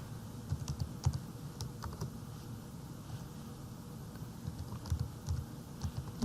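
Steady tapping on a phone's on-screen keyboard while a Gmail address is entered into an email app, with quick irregular clicks in short bursts, close and fairly quiet, and a pause midway.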